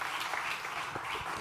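A conference audience at a summit's playground stage applauds a finished panel, a steady, moderately distant wash of many hands clapping that holds evenly for the whole stretch.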